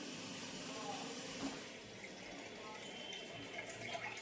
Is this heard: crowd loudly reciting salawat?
no